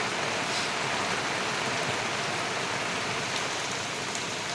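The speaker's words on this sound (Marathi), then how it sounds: "आता बघा मस्तपैकी पाऊस येलो" Steady rain falls in a dense, even hiss, close and continuous with no pauses, drops pattering on surfaces throughout.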